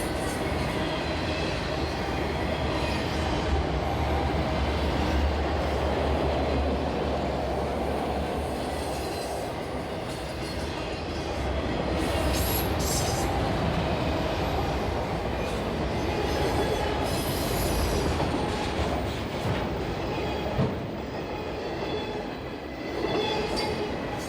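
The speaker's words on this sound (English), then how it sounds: ".803 is a turn job, coming back from Talladega and returning to Birmingham with those load of auto racks." A CSX freight train hauling auto racks rolls past at length, a constant heavy rumble of wagons with faint wheel squeal and clatter, steady and fairly close, with no voices.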